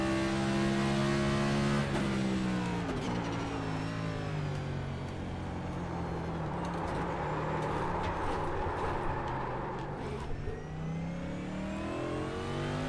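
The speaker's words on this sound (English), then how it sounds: "the braking's really hard to slow down with this heavy stock car" A heavy stock car in iRacing roars at a mid pitch, its engine dropping as it brakes hard into a corner and then climbing again as it accelerates out, loud and continuous.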